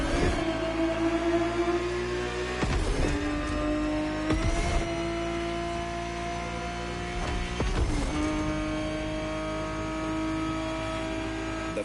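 Ferrari 365 GTB4 engine in The Crew Motorfest game, a steady high engine drone that climbs through the revs, dropping abruptly at each of three gear shifts before rising again, loud and alone.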